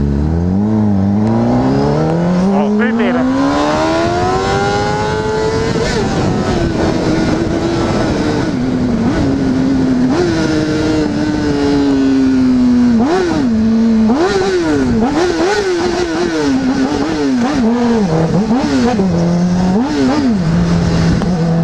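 Motorcycles, including a Honda CBR600RR, rev hard and pass close by, one engine climbing steadily in pitch, then a string of sharp throttle blips and repeated revving that stays loud and dense throughout.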